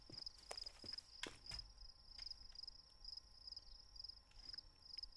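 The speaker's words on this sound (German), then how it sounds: "Wie man einfach nur die Grillen hört." Crickets chirp in a continuous high, pulsing trill across a quiet night forest in the survival video game The Forest, with a few soft footstep-like thumps underneath.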